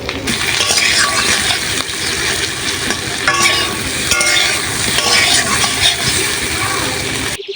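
Potatoes fry in hot oil in a pan with a steady close sizzle, broken by scraping and stirring sounds throughout.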